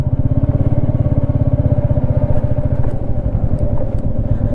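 Royal Enfield Meteor 350 cruiser motorcycle running on the road, its single-cylinder engine thumping in a steady, loud, close pulse with some mechanical clatter, no talking.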